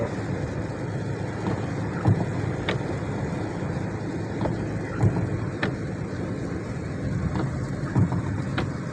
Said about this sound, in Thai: ตกแรงครับตรงนี้ครับ